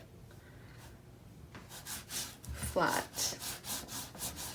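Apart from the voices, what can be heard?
bone folder burnishing paper down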